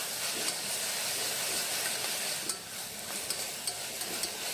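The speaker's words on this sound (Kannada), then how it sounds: "ಸೊ ಪುದೀನ ಮತ್ತು ಕೊತ್ತಂಬರಿನ ಇವಾಗಲೇ ನಾವು ಆಯಿಲಲ್ಲಿ ಫ್ರೈ ಮಾಡ್ಕೊಬೇಕು" Mint and coriander leaves fry in hot oil for an egg pulao, a dense steamy hiss with soft crackle and a few light taps of stirring, heard alone without talk.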